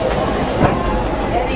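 A Disneyland Railroad train comes to a stop: a steady, close broadband rush and hiss with a brief swell near the middle, without pause.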